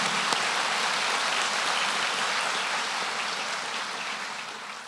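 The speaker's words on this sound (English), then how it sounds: "Let's give them a hand" Large audience at a medical school white coat ceremony applauding the new students, a dense, steady roar of clapping that fills the room and tapers off slightly toward the end.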